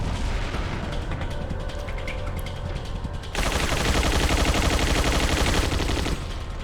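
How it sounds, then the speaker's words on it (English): Handgun shots in Resident Evil 4, a run of sharp close reports with mechanical clicks, growing into a dense, loud burst of rapid gunfire in the second half, no talking. "Now let's just use the normal handgun for now"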